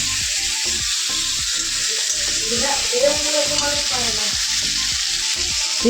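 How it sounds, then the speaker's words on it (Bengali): Prawns fry in a pan with a loud, steady sizzle, while a utensil stirs and scrapes in an irregular rhythm throughout. "দেখো চিংড়ি মাছগুলো ভেজে নিচ্ছি"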